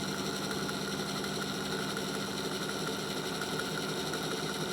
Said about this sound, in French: le moteur qui accélère